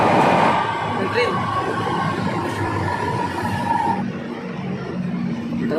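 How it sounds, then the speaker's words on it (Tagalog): A train rolling along an elevated rail line above EDSA in Quezon City, Philippines, a steady rumbling pass with a faint whine, heard from the street amid traffic noise while people talk nearby. "Yan train."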